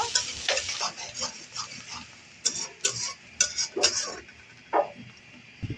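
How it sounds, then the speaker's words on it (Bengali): A pan of onions with chopped garlic is stirred while it fries toward brown, giving soft sizzling and sharp intermittent scrapes and clinks of a utensil against the pan. "এখন আমি পেঁয়াজটাকে একটু ব্রাউন করে ভেজে নিব।"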